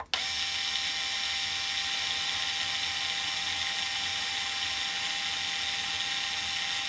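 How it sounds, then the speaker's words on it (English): A drill spins steadily to wind strings on a Trekki 2 travel guitar, its high, even whine starting abruptly and holding close and constant throughout. "just letting the spinning part, the drill part, do the work."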